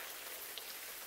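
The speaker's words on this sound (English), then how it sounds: "The rain is not hitting Hojimi-san." Rain falling in the Watajuu video game, a steady, even hiss of many drops with no voices over it.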